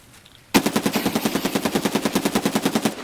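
Rapid automatic gunfire in the video game Escape From Tarkov bursts in after a quiet moment, a loud, evenly spaced string of about twenty shots that runs until nearly the end.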